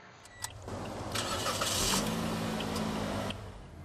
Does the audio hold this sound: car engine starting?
yes